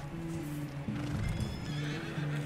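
A horse neighs and whinnies in Red Dead Redemption 2, a loud, strained call with a steady tonal line that rises again partway through, set against a dense game soundscape with no talk over it.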